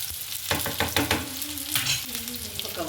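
Brinjal pieces mixed with tempering sizzle and stir in a pan over a low gas flame, with steady frying crackle and a few soft stirring scrapes close by, no talking.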